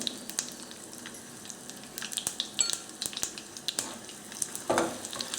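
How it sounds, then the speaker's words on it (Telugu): Mustard seeds and dried red chillies splutter and crackle in hot tempering oil for a tomato and red chilli chutney, a close, steady stream of sharp pops and sizzling with no talk. "ఆవాలు ఇవి చిటపట్లాడుతున్నాయండి"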